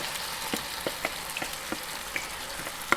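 Diced eggplant cooks in hot oil in a skillet over medium heat, giving a soft steady sizzle with scattered small pops and crackles throughout.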